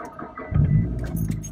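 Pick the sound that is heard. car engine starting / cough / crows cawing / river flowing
car engine starting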